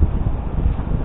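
Steady low rumbling buffeting of an east wind hitting the microphone outdoors, loud and continuous with no pauses and no speech.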